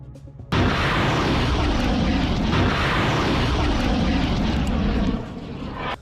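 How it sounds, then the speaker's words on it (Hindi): A launched drone's propeller engine roars in loudly and steadily, a sustained close buzzing drone that starts abruptly after a half-second and holds for several seconds before easing slightly near the end. "इस ड्रोन को ईलत की तरफ लॉन्च कर दिया जाता है"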